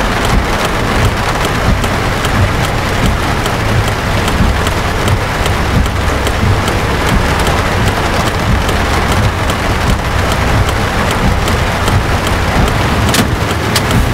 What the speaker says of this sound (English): this is the first time you've experienced rain in this game